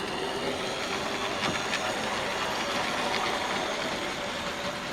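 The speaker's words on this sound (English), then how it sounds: "Wow, what a nostalgic train." A model railway tank locomotive runs along a loft layout track, giving a continuous close rumble and rattle with faint rhythmic clicks over the rails and a light hiss, steady in level with no talk.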